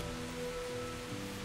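Rain falls steadily in the medieval world of the video game Kingdom Come: Deliverance, a faint continuous hiss with a low tonal game background beneath it and no talking.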